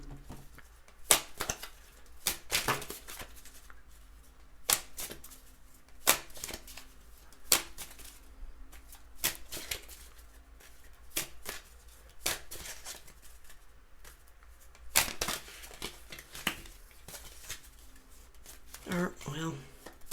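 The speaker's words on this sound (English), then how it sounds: "since I've already started shuffling, I can't pull the bottom of the deck one" A deck of tarot cards being shuffled, with crisp riffling bursts and card slaps in an irregular rhythm, close by and fairly quiet, while a person talks intermittently between them.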